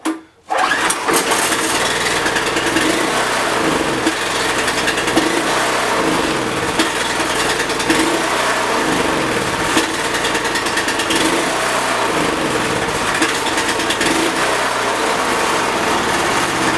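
The small engine of an Excell pressure washer runs on choke, a loud, continuous high-revving drone with a slight rhythmic wavering, heard up close after a brief start.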